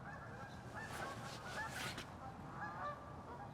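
A flock of geese honks while coming in to land, a steady stream of overlapping calls over a dense, noisy background, fairly close and fairly loud throughout.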